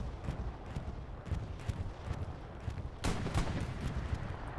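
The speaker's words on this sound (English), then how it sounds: "Coming across over there on the east side of the map." Repeated bursts of bombing-run explosions rumble across a flak position in a multiplayer WWII-style match, several distant booms and crackling impacts scattered through the stretch, one heavier blast near the middle, all fairly faint with no talking.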